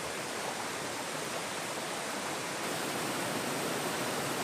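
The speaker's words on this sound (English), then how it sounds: "A little further upstream, there was a waterfall." A waterfall upstream of farmland, heard as an even, dense hiss of falling water, steady and moderately distant with no change in level and no voices.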